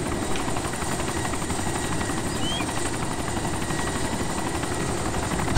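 A helicopter in the video game DayZ runs close by, its loud, continuous rotor thrum and engine whine holding steady from start to finish with no talk over it.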